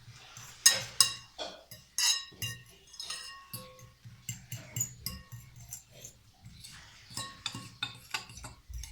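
Batter with green onions is stirred in a bowl, giving a run of irregular clinks and scrapes of a utensil against the dish, close and fairly sharp, with short pauses between strokes.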